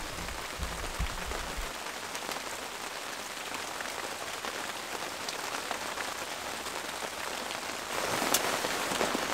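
Rain falling on a campsite by the Miramichi River, a steady dense patter of drops on surfaces throughout, growing slightly heavier near the end, with no voices.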